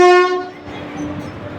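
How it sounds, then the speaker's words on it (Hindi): A train horn blares loud and close for a fraction of a second, then fades into the low rumble of the Rishikesh Virbhadra train arriving at the station. "देखो गाइस आ गई ट्रेन। ट्रेन आ चुकी है गाइस"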